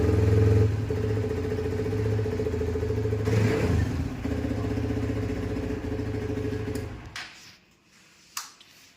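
A Hero XPulse 200 motorcycle engine runs steadily with revving pulses up close, a loud mechanical drone that cuts off near the end, leaving a few brief clicks and clatter.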